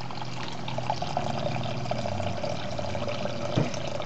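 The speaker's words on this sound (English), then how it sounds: "we're going to need to drain off all of the broth" Turkey broth is poured off the drippings in a roasting pan, a steady close trickle of liquid with a few small splashes and a clink near the end, no talking.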